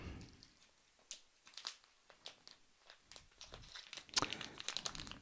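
Crinkly plastic bag rustling and crackling in irregular bursts as it is unwrapped from a Harley Benton MR Modern electric guitar, close up, growing busier and louder toward the end, with no talking.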